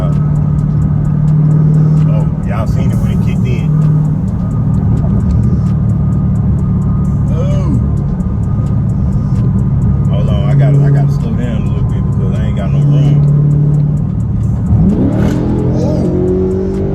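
Engine of a modded Dodge Charger widebody fitted with a pedal box accelerates, a loud, sustained drone with rising and falling revs over the whole stretch, while people talk on top of it.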